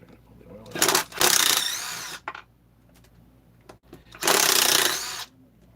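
Power tool whirring in two bursts while oiler bolts are backed out of a Stihl 200T chainsaw during a rebuild, loud and close with a quiet gap of small clicks between.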